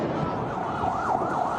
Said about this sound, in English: there's a number of ambulances who are already ferrying their way to go and pick up the injured